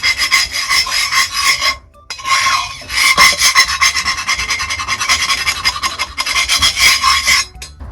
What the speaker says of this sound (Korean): 스크래퍼로 한 번 더 긁어줘도